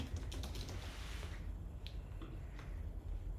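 Fingers type text on a computer keyboard in quick, close, light key clicks that slow into a few sparse taps toward the end.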